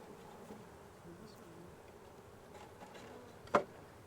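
Honey bees buzz faintly around an open hive during a beekeeping inspection, a soft steady hum near the microphone with one short sharp knock toward the end.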